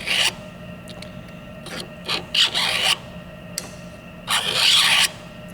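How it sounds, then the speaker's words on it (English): Roofing hook drawn along a straight edge to score an acrylic plastic sheet: several rasping scraping strokes of varying length, close and fairly loud, with short pauses between them. "It's actually biting into that plastic and cutting that plastic."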